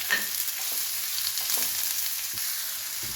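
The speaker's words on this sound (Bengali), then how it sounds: "পেঁয়াজ রসুনটা ভেজে নেব।" Onion and garlic fry together in a pan for a rohu fish dish, giving a steady close sizzle and crackle that runs unbroken through the clip, with a few soft scrapes of stirring and no talk.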